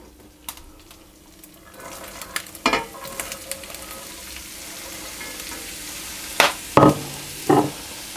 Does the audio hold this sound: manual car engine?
no